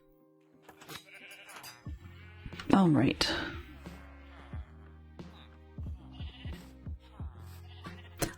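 Sheep bleating in a farm game during sheep wrangling, one loud wavering bleat near the middle and fainter ones around it, with a person talking briefly over light background music.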